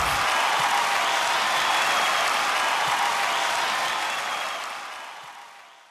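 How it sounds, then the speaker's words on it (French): A dense crowd bursts into loud, sustained applause for the actor Akshay Kumar, holding steady before gradually fading away at the end. "Je vous demande un tonnerre d'applaudissements pour le seul, l'unique, le grand acteur, Akshay Kumar!"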